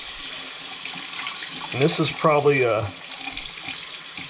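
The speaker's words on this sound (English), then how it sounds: "I'm gonna rinse it in cold water." Cold tap water runs steadily into a sink while an old braided fly line is rinsed, a constant hiss of flow with someone speaking briefly over it.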